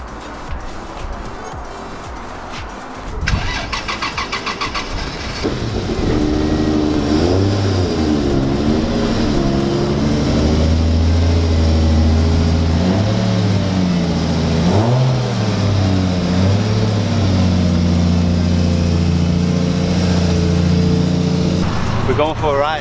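Lexus IS300 driving after a suspension rebuild: loud engine revving and accelerating with rising and falling pitch, close inside the car, preceded by a brief clatter, with talk at moments.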